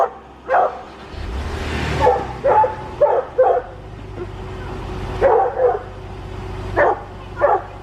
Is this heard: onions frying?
no